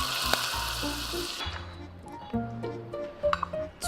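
Hot cooking oil hits a seasoning sauce of soy sauce, sesame oil and minced garlic with a sharp burst of sizzling that quickly settles into a softer crackle, with a few light clinks of utensils.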